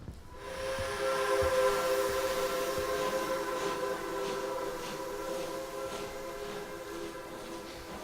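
A train rolls along with a steady rumble, and a sustained whistle tone runs through the whole passage at moderate volume, with no voices.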